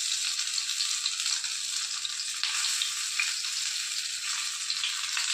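Idli tikka skewers fry in oil on a dosa griddle, giving a steady, close, bright sizzle that holds evenly throughout with no talking.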